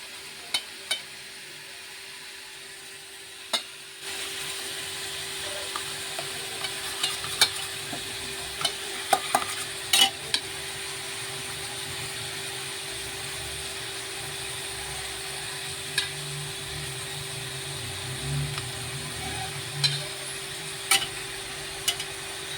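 Onions fry in a pan with a steady, soft sizzle that swells after a few seconds of quiet. Occasional light clicks of a spatula scrape through it, close by.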